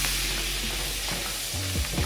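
Garlic cloves sizzle steadily in a pan of melted butter, a bright, continuous hiss at moderate level with a few soft utensil shifts near the end.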